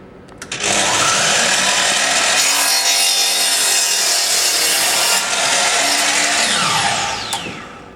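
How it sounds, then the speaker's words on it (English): A compound chop saw spins up and makes a downward cross-cut through timber, a loud sustained whine and rasp of the blade in the wood lasting several seconds before it tapers off. "And as the saw blade is a downward stroke motion, we can now get a cross cut."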